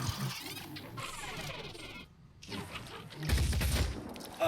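Rapid turret gunfire crackles in a video game battle involving a fragile Aspida, with dense overlapping shots throughout, a brief lull in the middle, then a louder, heavier burst of impacts near the end.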